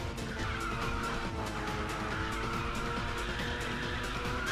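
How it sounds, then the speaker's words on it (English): A race car in Ridge Racer 6 roars at high speed under a nitrous boost, with a steady loud engine drone and tire squeal throughout, no talking. "Stand by for nitrous oxide injection."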